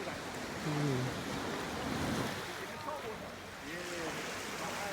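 Ocean surf washes steadily onto the beach at Frenchman's Cove in Portland, Jamaica, a broad continuous roar with wind noise on the microphone, while faint voices talk briefly in the background.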